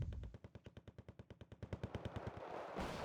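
Rapid, evenly spaced bursts of gunfire from CDF units in the strategy game Wargame: Red Dragon, about a dozen close, loud shots rattling in a steady rhythm with no talk.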